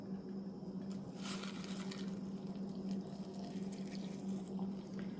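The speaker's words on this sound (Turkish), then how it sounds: "Ben suyumu kaynattım ve yavaş yavaş kaynar suyumu üzerine ilave ediyorum." Boiling water being poured slowly over onion peels in a cup, a steady close trickle and splash under a low hum, continuous throughout with no talking.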